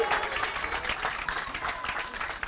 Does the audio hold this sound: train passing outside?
no